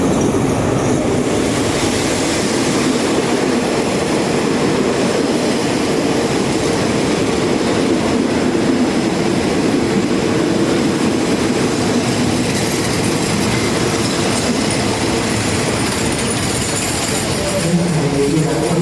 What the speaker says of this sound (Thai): รถเข้ามาเรียบร้อยแล้วนะครับผม